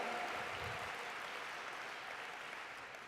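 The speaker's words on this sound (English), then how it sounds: "Give Gihan Pereira a round of applause." An audience at a talk by Van Jones breaks into steady, sustained applause, a faint wash of clapping that stays even throughout.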